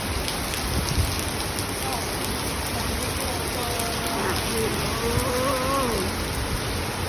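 Steady heavy rain pours down at night in a capital city in a dense, even hiss, with a faint voice briefly audible beneath it.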